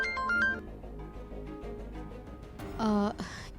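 A phone ringtone plays for a call from Doctor Sharma, a short melodic tone at the start and again near the end, over soft background music, with a brief breathy vocal sound between the rings.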